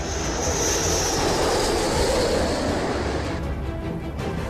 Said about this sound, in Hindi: अमेरिका का सबसे बड़ा बॉम्बर B-1 अब अमेरिका से लॉन्च होकर ईरान पर बम बरसाएगा।